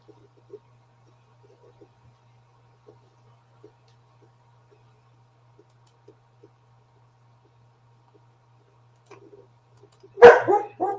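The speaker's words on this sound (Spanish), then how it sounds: "Perdonen a mi perrita Maya que está ladrando" A small dog barks in a short burst of several loud, close yips near the end, after a long stretch of near silence with faint low hum.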